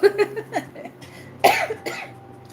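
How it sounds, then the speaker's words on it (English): Several harsh, chesty coughs come in clusters, close to the listener, with short pauses between them. "I apologize for the coughing."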